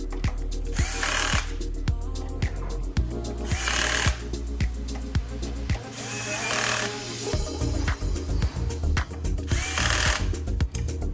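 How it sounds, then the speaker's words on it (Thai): Electric screwdriver driving bolts on a motorcycle crash bar for a Kawasaki W800, repeated loud whirring bursts of a few seconds each, with clicks and clatter between them, close by. "ตั้งไขควงไว้ ให้เบาลงหน่อยนะครับ"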